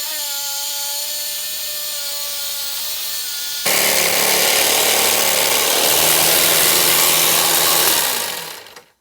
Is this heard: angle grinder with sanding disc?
yes